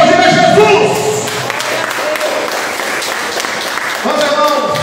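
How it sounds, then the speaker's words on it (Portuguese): A church congregation applauds during a worship service, with broad clapping running under and around a few brief voices and tonal sounds, fairly loud and close throughout. "Para aplaudir a Jesus."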